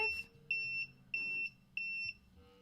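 A kitchen timer alarm beeps in four short, loud, evenly spaced electronic pulses close by, with no talking.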